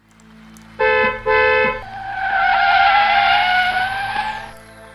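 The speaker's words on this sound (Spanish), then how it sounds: "El ruido de una frenada lo devolvió abruptamente a la realidad." A vehicle brakes hard, preceded by two short, loud blasts of a car horn, then a long, rising tire screech that holds for a few seconds before cutting off, with nobody speaking.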